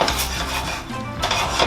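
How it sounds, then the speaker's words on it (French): A utensil scraping caramelized juices from the bottom of a saucepan for pepper sauce, continuous close metallic scraping and stirring with a faint sizzle underneath. "On gratte bien les sucres au fond de la casserole."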